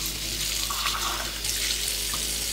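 Tap water runs steadily into a sink, rinsing soapy chocolate airbrush parts, a continuous close hiss with small splashy shifts in the flow and no talk.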